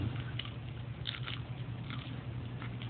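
A dog gnaws a peanut butter flavored rawhide up close, giving soft irregular crunching bites over a low steady hum.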